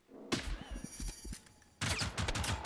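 Gunfire in the Generation Zero video game, a quick run of rhythmic shots followed by a louder, denser burst of firing near the end, close and fairly loud.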